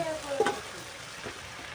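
Chow mein with potato sizzles in a pan while it is stirred, giving a close, steady hiss with a scrape of the spatula early on and no voices.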